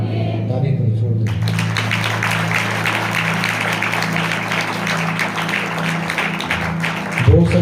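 A crowd claps steadily for several seconds, a dense wash of applause that starts abruptly after a moment of low voices.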